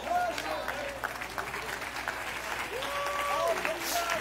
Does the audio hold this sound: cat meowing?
no